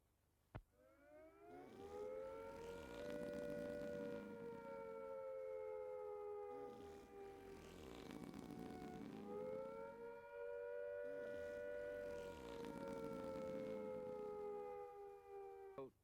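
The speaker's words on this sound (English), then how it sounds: "if attack is imminent, you will hear the attack sound like this." A British civil defence air attack warning siren from a 1975 public information film. It wails loudly in about three long rising-and-falling cycles, sustained and alone, with no speech.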